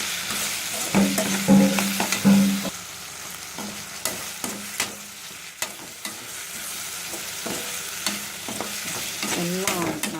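Mushroom curry ingredients sauté and are stirred in a pan for mushroom kulambu, with steady sizzling broken by repeated sharp scrapes and clacks of a spoon against the pan, close and fairly loud, with no talking.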